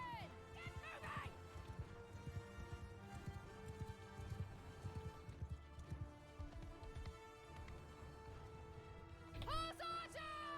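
Horses galloping in Mount and Blade II: Bannerlord battle, a steady, busy clatter of many hooves with a neigh rising near the end, under game music and a shouted voice.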